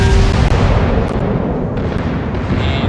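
Heavy naval gun fire from an Amagi battleship in World of Warships, a loud sustained rumbling boom that fills the short clip, with no talking.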